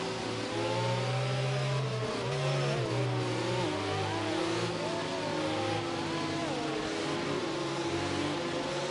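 Racing cars accelerating hard at a restart in a video game race at Hungary, several engines revving and rising in pitch together, steady and loud with overlapping whining tones.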